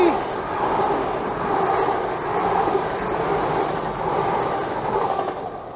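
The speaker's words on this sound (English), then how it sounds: "Oh look Mush, it's a train!" A train rumbles past on the Exe Trail in a steady, loud, continuous roar that holds for several seconds before easing slightly at the end.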